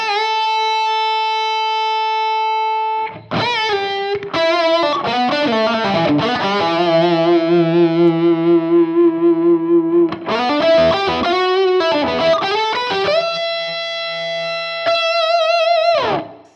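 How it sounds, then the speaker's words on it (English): An electric guitar runs through an overdrive pedal followed by a Klon boost pedal. Loud, sustained distorted chords and single notes ring out with long sustain, separated by short, sharp re-attacks. "then I throw the Klon on, see, that gives me a real big boost in volume. It's louder, right? Because it's coming after the overdrive."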